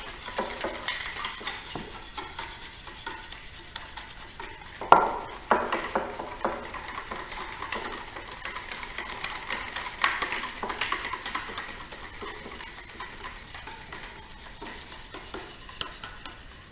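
A whisk clatters quickly against a bowl as powders are stirred into a homemade deodorant mixture, producing continuous fast rhythmic tapping and scraping, close and moderately loud, with a few sharper knocks.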